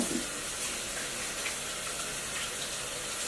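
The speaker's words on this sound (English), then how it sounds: "Get some soap, wash my hands." Hands are washed with soap under a running tap, the water hissing and splashing steadily and close by for the whole moment, without any talking.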